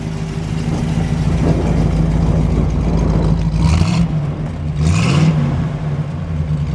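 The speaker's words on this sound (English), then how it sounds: "Let's take a listen to the exhaust." The V8 of a 1963 Studebaker Avanti R1 rumbles at idle through its exhaust, then is blipped twice, each short rev rising sharply and falling back to the steady low burble, heard up close with no speech.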